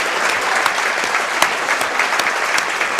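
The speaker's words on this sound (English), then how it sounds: "And Peyton gets a good hand from the crowd" Crowd in a gym at a varsity girls' basketball game applauding steadily as an injured player is taken out, dense clapping with sharp individual claps poking through, fairly close.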